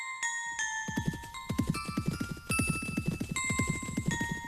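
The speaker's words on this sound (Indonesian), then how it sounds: "terdengar derap puluhan langkah kuda menuju warung kopi" Dozens of horses' hooves clop rapidly and steadily, a dense galloping rhythm, with jingling harness bells ringing above throughout.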